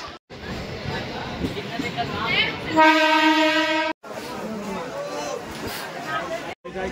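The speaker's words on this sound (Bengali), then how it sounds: "আমাদের ট্রেন ছেড়ে দিল ব্যান্ডেল রেলওয়ে স্টেশন থেকে।" A local train pulls out of Bandel railway station with rumbling carriages, and a loud sustained horn sounds midway. A person talks over the train noise throughout.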